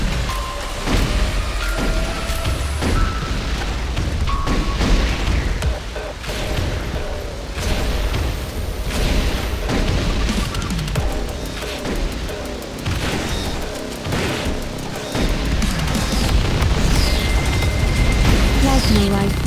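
Grenade launcher explosions in a video game, heavy booms and mechanical clatter rolling continuously through a dense, loud battle mix with no pauses.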